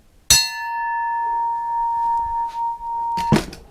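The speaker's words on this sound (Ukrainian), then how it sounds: "Ось дивіться, як дзвонить цей наш Бетмен." A forged 1956 axe head of U8 steel, without a handle, is struck and rings out as a clear, sustained metallic tone that slowly fades, then is struck again and cut off by a sharp clank.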